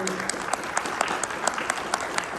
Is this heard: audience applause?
yes